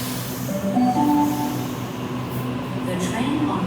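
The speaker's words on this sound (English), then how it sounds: "there's a train on platform number 4" A Sydney commuter train idles and rumbles at North Sydney station with a steady low drone and faint tonal whine, close and continuous, while people speak nearby.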